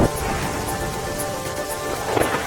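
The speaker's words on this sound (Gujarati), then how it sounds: "અરવલ્લીના માલપુરમાં ધોધમાર વરસાદથી પાણી ભરાયા." Heavy rain pours steadily in Malpur, Aravalli, a dense, even hiss of downpour over flooded streets with no pauses.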